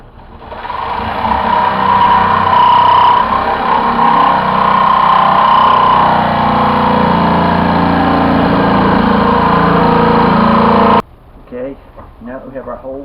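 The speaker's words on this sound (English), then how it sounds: "We can move to the jigsaw." A jigsaw cutting while building a soil sifter, running as a loud, steady buzzing drone for about eleven seconds before cutting off abruptly, leaving quieter background sound.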